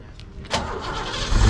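Ford Foxbody car with stock mufflers and an H-pipe cranks and fires up, a brief starter whir giving way to a rising, deep engine rumble that grows louder toward the end, close by with faint background voices.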